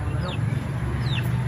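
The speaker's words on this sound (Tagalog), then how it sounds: "Kain ng mga manok." Backyard chickens being fed cluck in short, close calls over a constant low background hum, with no talking.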